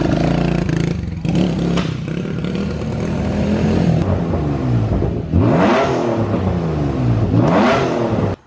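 Carbureted motorcycle engine running rough and breaking up, with a loud, continuous uneven idle and two rising revs that sputter and stumble, heard close with no talk.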